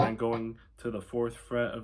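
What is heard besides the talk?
None of the usual background noises is heard.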